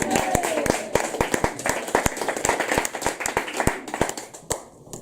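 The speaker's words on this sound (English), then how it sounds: "Another round of applause." Applause from a small crowd at a poetry open mic, uneven clapping with sharp individual claps standing out, fading toward the end, with some murmuring voices underneath.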